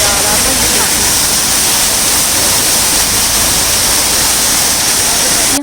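Mountain waterfall beside a path, water pouring from the falls in a loud, continuous broadband roar that stays steady and close throughout.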